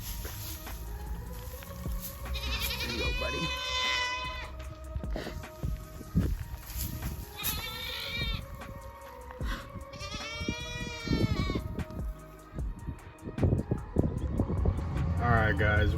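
Farm animals at feeding time let out several loud bleating calls among footsteps and rustling, near and repeated, while someone talks to them.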